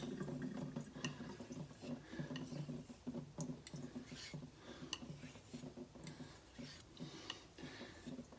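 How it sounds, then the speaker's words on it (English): Water running over a kitchen knife and sharpening stone to rinse off the slurry, a steady faint trickle with small clinks and taps, quiet and close, nothing spoken. "I'm going to rinse the slurry off."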